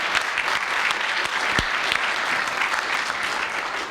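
An audience at a college elevator pitch competition applauds the celebrity judges, a dense steady round of clapping close by and unbroken, with no talk over it.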